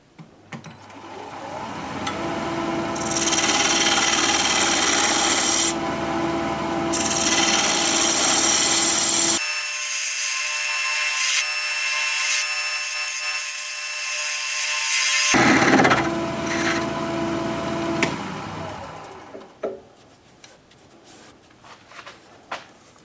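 A wood vase spinning on a lathe while the heartwood is feathered out, with a steady rubbing, rasping scrape of tool on wood over the motor hum, pausing and resuming in long stretches before winding down.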